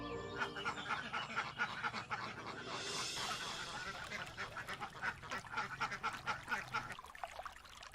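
Cartoon duck on a river sandbank quacking and honking in rapid repeated bursts, loud and close over a busy animated soundtrack.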